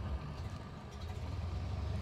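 A 1929 Ford Model A Roadster's engine rumbles low and steady on the highway, a faint, continuous mechanical drone with no talk.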